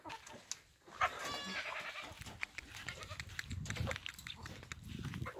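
Goats on a Russian smallholding in August bleat close by in a couple of wavering calls amid steady farmyard background noise, with chickens faintly present.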